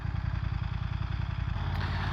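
BMW F900R motorcycle with its parallel-twin engine running, a steady, loud, throbbing low pulse with a slightly rough, uneven beat, close and continuous for the whole stretch with no talk.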